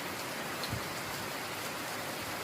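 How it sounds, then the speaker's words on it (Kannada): Heavy rain falling outdoors in a village, a dense, even hiss of downpour on surfaces, loud and steady throughout with no talking. "ಇವತ್ತೇನೋ ಒಂದು ಸ್ವಲ್ಪ ಜೋರಾಗಿ ಹುಯ್ತಾ ಇದೆ"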